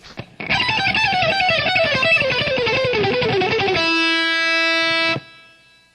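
A distorted electric guitar riff through a plexi amp with a little reverb, descending notes, then a sustained ringing chord that cuts off abruptly; loud and close.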